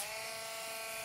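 A 5-in-1 dog grooming clipper hums with a steady, high electric buzz, heard close and alone for about a second.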